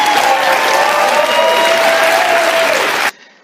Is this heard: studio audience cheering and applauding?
yes